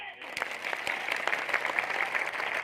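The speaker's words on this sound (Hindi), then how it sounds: "ताली बजाओ।" A crowd at a BJP election rally in Madhya Pradesh claps in sustained, dense applause, with individual sharp claps standing out against the steady roar.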